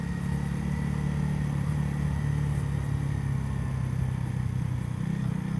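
A KTM motorcycle engine running steadily at a close, even drone during a quickshifter gear change, with no distinct break or rev spike standing out.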